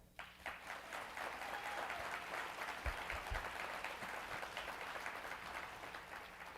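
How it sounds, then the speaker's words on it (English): Applause from a live audience at a summit in Orlando, a sustained spread of clapping that fills the room for several seconds with no speech over it. "applaud now."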